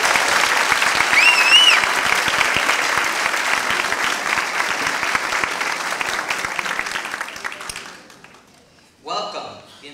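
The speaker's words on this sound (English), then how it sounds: "Please join me in welcoming with a round of applause our MCs for today" Loud, sustained audience applause fills a school dedication ceremony at a charter upper school, thinning out and fading toward the end, with a voice speaking over the last moments.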